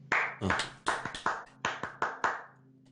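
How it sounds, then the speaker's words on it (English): A handful of people clapping along in a small room, about ten close, crisp claps in a rough rhythm, each ringing briefly, with a low hum underneath. "everybody clap along"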